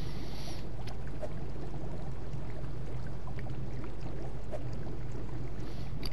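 Water pours steadily in the Ark Aberration video game as a water skin is filled, a continuous dense splashing trickle at close range with no talking.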